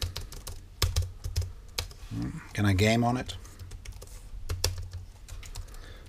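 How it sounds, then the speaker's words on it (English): Someone bashes away at the large chiclet-style keys of an FL Studio keyboard, giving rapid irregular clacking close by, while a person speaks briefly over the typing. "I just bash away at the keys"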